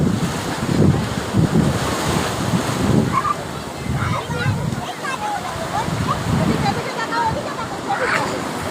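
Sea waves break and rush up the beach at Digha, with a loud, continuous surf roar and wind buffeting the microphone, and a voice can be heard faintly.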